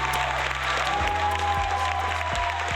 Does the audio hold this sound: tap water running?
no